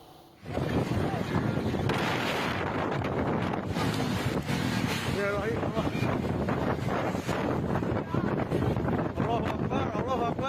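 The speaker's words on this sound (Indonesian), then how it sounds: "angin kencang menerjang kawasan Bandung Barat" Loud, steady strong wind roars and buffets throughout in West Bandung, Indonesia, a dense rushing noise with faint, indistinct voices buried underneath.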